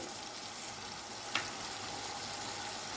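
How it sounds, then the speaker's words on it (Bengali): Ground spices, salt, sugar, turmeric and ginger paste fry in hot oil for a banana-flower kofta curry, giving a steady close sizzle with one brief clack partway through, no voices. "সবগুলো একেবারে তেলের মধ্যে ভালো করে আগে প্রথমে কষিয়ে নেব"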